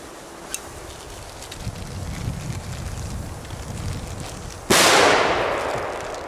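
Belgian fireworks set off outdoors: a faint pop early on, steady wind rumble, then one loud sharp firecracker bang near the end that decays slowly.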